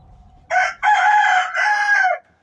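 A Brahma rooster crows loud and close in one full call of three drawn-out segments, ringing out alone after a short low rumble.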